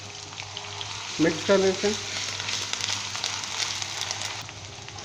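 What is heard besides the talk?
ginger garlic paste frying in hot oil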